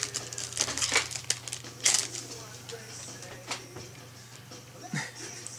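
Trading card pack wrapper being torn open, with bursts of close crinkling and crumpling plastic in short irregular bursts, the loudest near the start and a softer rustle later.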